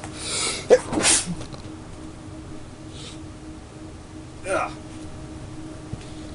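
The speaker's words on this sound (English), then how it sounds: "Oh wow. Okay, hold on. I have to sneeze." A single sharp sneeze bursts out near the start, followed by quiet room tone and a couple of soft breaths or shuffles.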